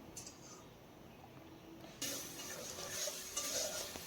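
Spice paste frying in oil in a pan for an okra dish, a close sizzle that grows louder partway through, with stirring scrapes and light clinks of utensil on metal.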